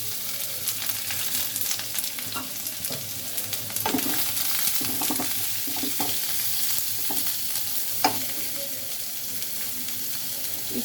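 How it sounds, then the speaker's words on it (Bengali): Nigella seeds fry in hot oil in a pan, giving a steady close crackling sizzle with small irregular pops and occasional faint clinks throughout, with no voices. "তেলে আমি প্রথমে কালো জিরে দিয়ে দিব।"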